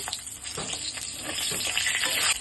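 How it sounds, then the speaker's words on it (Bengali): Garlic fries in hot oil with a tempering of bay leaves and cumin, giving a close, steady sizzle with crackling pops and occasional stirring sounds, and no talking. "রসুনটা অল্প হালকা ভেজে নিব"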